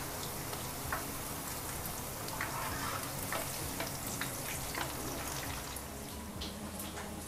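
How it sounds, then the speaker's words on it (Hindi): Chicken pakoras frying in oil crackle and bubble in a continuous, rain-like sizzle, close and moderately quiet, with occasional brighter spits over the steady hiss and no speech. "पकौड़े फ्राई हो रहे हैं"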